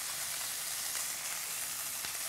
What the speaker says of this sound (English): And hear that sizzle? It means we're hot.